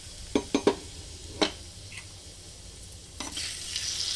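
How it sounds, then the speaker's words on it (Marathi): Mustard seeds, cumin, curry leaves and asafoetida hit hot oil for a tomato chutney tempering: a few sharp metallic taps and stirring knocks, then a close, rising hiss of sizzling. "आता आपण यात राई जिरं घालून घेणार आहोत, कढीपत्ता घालून घेणार आहोत, हिंग घालून घेणार आहोत"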